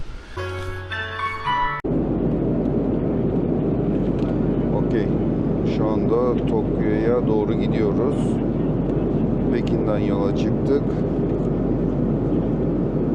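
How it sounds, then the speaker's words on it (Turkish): Steady broadband cabin roar inside a China Southern Airlines Airbus A330 cruising in flight, a constant droning rush that holds level throughout, with a person speaking over it after a brief opening of other sound. "China Southern Airlines'ın A330 uçağındayız yine."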